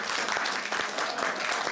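A dense crowd applauds steadily and evenly at a Burns night haggis supper in Dunedin, New Zealand, with no pauses in the clapping.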